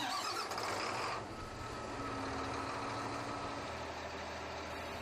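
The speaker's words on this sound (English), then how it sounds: "Start the engine." A Jetstream waterblast pump unit's engine cranks with a rough burst, then settles into a steady low idle rumble with a faint tonal whine, heard at a moderate distance and quiet level.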